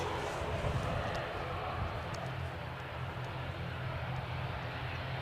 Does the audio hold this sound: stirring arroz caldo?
no